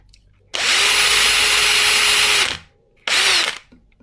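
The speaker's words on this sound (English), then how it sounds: "we're just going to drill these down for the screw and get them nice and square" A power drill bores screw pilot holes for guitar tuning machines, likely into the wood of the headstock. One steady whine lasts about two seconds, then a short second burst follows. The drilling is close and loud, with no talk.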